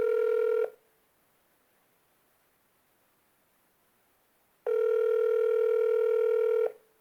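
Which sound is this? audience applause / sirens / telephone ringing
telephone ringing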